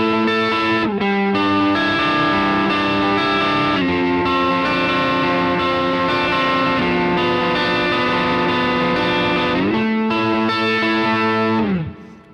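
Sustained high notes on a Jet Guitars JS-450 electric guitar drenched in distortion and chorus, a few shifting pitches ringing steadily before cutting off at the end.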